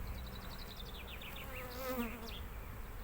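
Honey bees buzz at an open beehive with a soft, continuous drone of many wings and individual bees whining past nearby.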